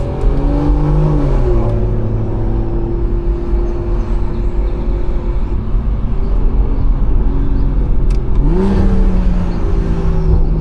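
BMW B58 turbocharged engine revving hard on a backroad drive, heard from inside the car as a loud, steady roar with rising and falling pitch through shifts, including a sharp climb near the end.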